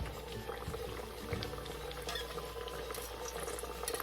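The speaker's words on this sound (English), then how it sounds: "once the oil gets hot, you take your aloo pie and you put it in" Aloo pie dropped into hot oil to fry: a steady close bubbling and crackling sizzle with soft stirring clatter throughout, fairly quiet, no voices.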